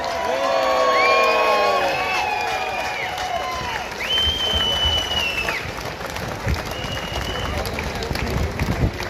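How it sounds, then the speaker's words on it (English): An audience at a Save the Children demonstration applauds and cheers for Elizabeth Harper, loud sustained clapping mixed with whoops and high shouts near the start, continuing for several seconds. "please give a massive, massive round of applause for Elizabeth Harper"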